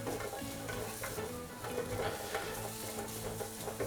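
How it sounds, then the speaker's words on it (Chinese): Button mushrooms dry-fry in a pan over low heat, a soft continuous sizzle broken by repeated scraping and stirring strokes of a spatula against the pan, close and fairly quiet, with no talking. "口蘑稍微给它干煎一下"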